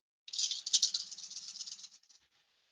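A pool of seven dice rattles across a table at a tabletop roleplaying session, a quick burst of bright clattering that tumbles and settles over about two seconds, then fades out.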